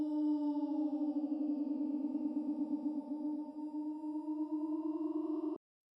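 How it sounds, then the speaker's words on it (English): A sustained sung 'ooh' is looped on an RC-505 loop station through a tape echo effect, giving a thick, wavering layered drone that holds steady and loud for about five and a half seconds before cutting off abruptly. "All you have to do is use tape echo,"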